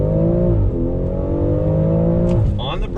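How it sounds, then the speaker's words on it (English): Engine of a 2020 BMW X4 M performance SUV pulling hard on throttle in automatic mode, a loud steady drone with rising tone and a brief shift near the end, heard from inside the cabin. "Guys, little acceleration test on throttle"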